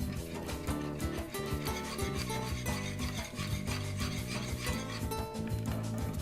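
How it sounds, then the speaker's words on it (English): Liquid is whisked in a bowl with quick, even strokes. The scraping rhythm is steady and close and runs without a break from start to finish. "And I'm just gonna whisk it up."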